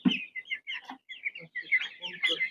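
A small young chicken of a coloured broiler breed clucks in quick choppy bursts while being handled, loud and close, the calls broken by brief pauses.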